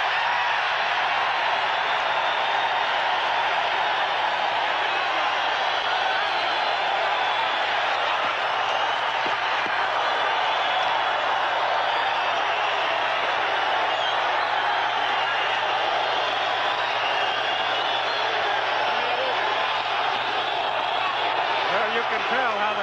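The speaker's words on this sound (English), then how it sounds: "Well, you can tell how the crowd feels about it." A boxing arena crowd roars in a steady, dense wash of voices between rounds of the Rafael "Bazooka" Limon versus Bobby Chacon bout, loud and continuous throughout with no single voice standing out.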